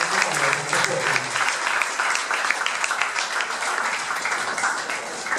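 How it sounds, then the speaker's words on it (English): Steady audience applause fills a poetry slam venue, dense clapping from a sizeable crowd holding at an even level throughout, with a faint voice or two beneath it. "I just want you to give yourselves a warm round of applause."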